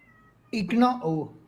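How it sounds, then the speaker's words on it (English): A house cat meows close by, one drawn-out, wavering call lasting about a second after a quiet room. "wait, my cat is here"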